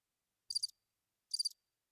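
Two short bursts of cricket chirping from a sound effect, each a quick trill of pulses, separated by silence and heard alone without any talk.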